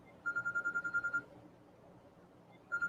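In a quiet room, a phone rings in the background with a steady burst of rapid electronic tone pulses, then pauses and starts again near the end, faint and with no talking.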